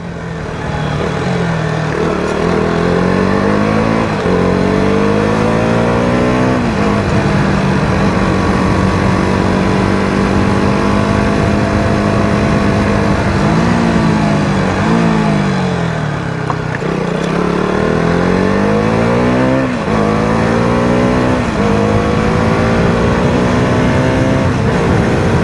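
A loud motorcycle engine revs repeatedly, pitch climbing through gears and dropping back, with rising and falling whines close to the microphone.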